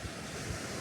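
Ocean surf washing against rocky cliffs on the California coast, a steady broadband wash with some wind rumble on the microphone, continuous and fairly close, with no voices.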